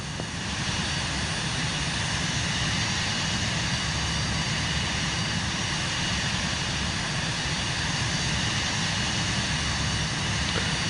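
Airliner engines roar in Microsoft Flight Simulator 2024 on PS5 during a landing at LaGuardia, a steady, loud jet drone with broadband rush that holds unchanged throughout, no voices.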